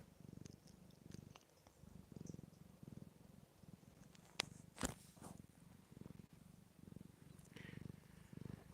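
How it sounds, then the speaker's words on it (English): A house cat purrs close to the microphone, a faint low rhythmic rumble pulsing about once a second, with a brief sharp click midway and a few quiet background sounds. "See if I can get her purr on camera, or you can hear it."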